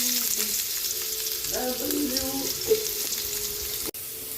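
Ginger sautés in a pan for batchoy soup, a steady sizzle and crackle of frying. Stirring clatters briefly in the middle, and there is a sharp click near the end.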